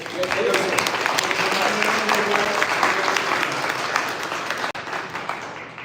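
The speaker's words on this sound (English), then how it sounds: "All right, a round of applause, for Sreedhar, please, everybody." Sustained applause from a crowd, steady and dense for several seconds, with a brief dip near the end.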